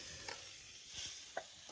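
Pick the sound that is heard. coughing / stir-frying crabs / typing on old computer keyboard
stir-frying crabs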